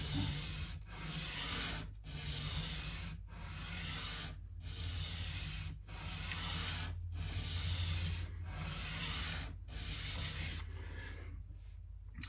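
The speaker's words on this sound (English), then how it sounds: "I should have put some new sandpaper on for this, because this is a bit worn out now" Worn sandpaper rubs over an acoustic guitar in steady back-and-forth strokes, a soft continuous hiss broken by about nine brief regular pauses, close and quiet.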